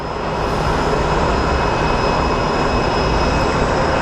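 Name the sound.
Boeing 757-200 airliner arriving at airport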